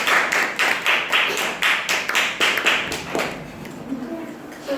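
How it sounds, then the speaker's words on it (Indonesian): A classroom full of students claps for a classmate, several seconds of rhythmic, fairly loud applause that tapers off into quieter room noise and a few voices. "Tepuk tangannya ke Fadli."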